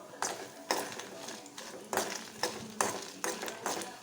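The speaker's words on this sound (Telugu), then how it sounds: "ఒక స్పూన్ జీలకర్ర వేసి అన్నీ వేయించుకోవాలి" Peanuts, dried and green chillies and cumin roasting in a pan for drumstick-leaf chutney, stirred in a steady rhythm of scraping, rattling strokes about twice a second, close and clear, with a voice speaking faintly underneath.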